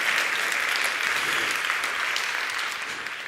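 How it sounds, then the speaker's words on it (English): Sustained audience applause at the EMYA 2025 awards ceremony, a dense steady wash of many hands clapping that holds loud throughout and eases slightly near the end. "Let's give him a big round of applause."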